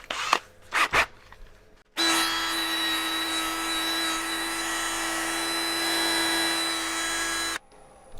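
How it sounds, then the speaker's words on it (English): A linen buffing mop on a lathe polishes a turned maple crotch bowl. After a few knocks, the machine starts and gives a steady, close whine with a high hum, then stops abruptly about six seconds later. "Now let's get our linen mop out and we'll finish buffing that in"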